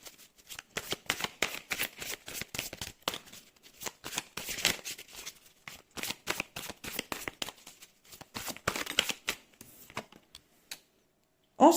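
Tarot cards are shuffled by hand in a quiet room, a long run of quick soft riffling flicks and slaps coming in uneven bursts, close and faint with no talk.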